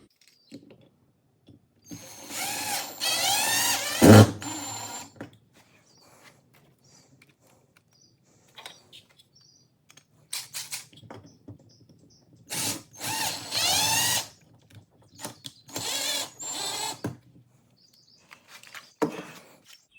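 A power drill drives screws to mount 3D-printed battery holders on a garage wall, sounding in several loud, short whirring bursts separated by quiet pauses.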